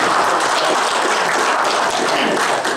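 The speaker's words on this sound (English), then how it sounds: "let's give Chad a round of applause." A seated audience at a small community talk gives speaker Chad a dense, steady round of applause, many hands clapping together at close range for a few seconds.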